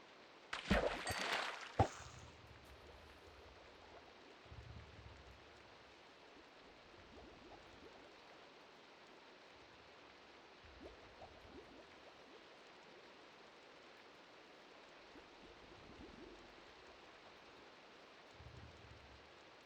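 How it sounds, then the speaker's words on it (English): Steady soft rain hiss fills the background throughout in hardcore Minecraft, with a brief louder clatter near the start and occasional low thumps. "How long has it been raining?"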